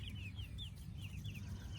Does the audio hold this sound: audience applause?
no